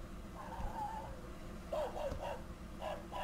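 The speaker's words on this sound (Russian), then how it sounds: "Собака." A dog gives faint, high whimpering yips in a few short bursts, somewhat distant over a low background hum.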